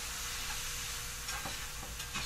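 Tofu browns in a hot pan, giving a close, even frying hiss that barely wavers, with a few faint stirring scrapes near the end.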